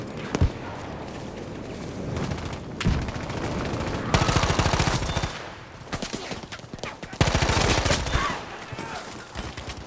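Rapid bursts of M2 Carbine assault rifle fire from Battlefield V crack out in several sharp volleys, loud and close, with short pauses between strings of shots.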